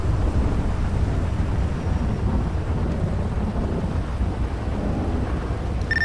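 Steady heavy rain in GTA 5 with a deep continuous rumble of thunder, dense and unbroken throughout, with no voices.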